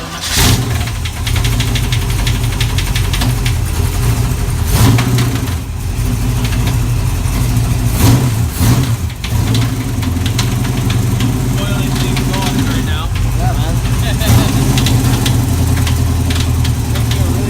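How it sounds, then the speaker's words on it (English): Race car engine with a bad internal motor noise, running loud and close with a rough, uneven mechanical clatter and knocking over a steady low drone, with brief louder bursts. "Bad internal motor noise, and Mechanical Jesus is trying to figure it"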